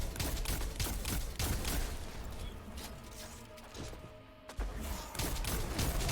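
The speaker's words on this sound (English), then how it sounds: "Just keep firing at him." SMG gunfire in Destiny 2 during a solo Legend lost sector, rapid dense volleys of shots with impacts and a brief lull before firing resumes loudly.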